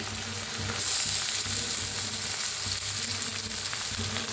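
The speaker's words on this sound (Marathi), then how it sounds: "आता ह्याच्यात टाकूया बटाटू कापून घेतलेले" Cut potatoes tumble into spiced masala frying in a pan, setting off a steady, close sizzle with faint stirring scrapes throughout, no voices over it.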